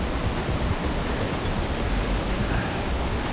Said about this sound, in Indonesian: Anginnya seru banget di atas.